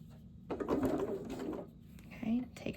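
A sewing machine stitching a 1/4 inch quilt seam, a short motorized whir and needle chatter running for about a second, quiet and close, with a brief second burst near the end.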